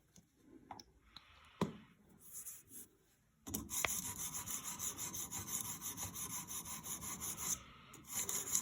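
A knife blade being sharpened on a sharpening stone to work out scratches: a few scattered taps give way to a continuous, rhythmic scraping rub of steel on stone, moderately loud and close.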